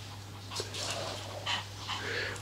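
A young spitz puppy pants and breathes steadily close by, with faint whimpering throughout and a low constant hum underneath, no talking.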